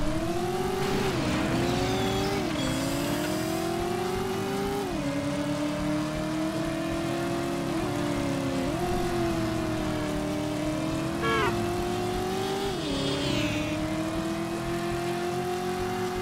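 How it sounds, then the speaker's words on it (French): A car engine in the Driver video game drones loudly and continuously during a chase mission, its pitch rising and dropping repeatedly as it shifts through gears and revs, with a brief whine partway through. "avec toujours évidemment la bagnole que tu poursuis qui roule à la même vitesse que toi"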